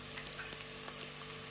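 Onion frying with a pinch of salt in a pan for lentil soup gives off a soft, steady sizzle. It stays quiet and even throughout, with no voices.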